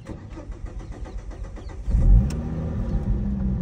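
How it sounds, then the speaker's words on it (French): A Ford Focus ST mk2 engine, just after an exhaust manifold gasket replacement, cranks with rapid rhythmic turning, then catches and settles into a loud, steady idle close by. "on va faire le premier démarrage depuis que le joint de collecteur d'échappement est changé"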